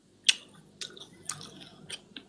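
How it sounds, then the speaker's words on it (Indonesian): Pork being chewed with a few crisp, close bites, starting with one sharp crunch followed by softer, irregular chewing sounds, with no talking. "Ini lagi makan babi."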